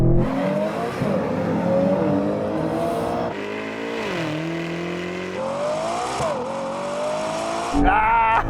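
A Ferrari Purosangue accelerates hard in a race, its engine droning loud and steady and rising in pitch through gear changes, with a brief dip partway through and another surge at the end.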